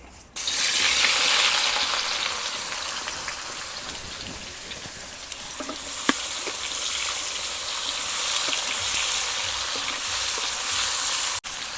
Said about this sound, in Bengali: তেল গরম হয়ে গেছে, কামরাঙাগুলো দিয়ে দিলাম।